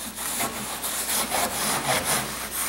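A cast glass fiber reinforced concrete piece being rubbed by hand, a steady rough scraping with repeated back-and-forth strokes, close and loud with no talking.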